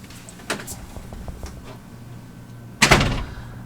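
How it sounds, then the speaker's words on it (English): A door shuts with a sharp, loud thud near the end, after a few quieter knocks and shuffling sounds indoors. "Close the door."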